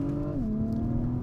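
A 2021 Acura TLX Type S engine pulls hard under acceleration on a tight road, a loud, steady droning tone that drops slightly in pitch partway through, with no talk over it.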